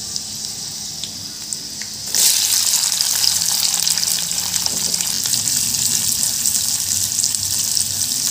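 Large onions hit hot oil in a pan while cooking a leafy-greens pulusu curry, bursting into a loud, steady sizzle that continues close by without talk.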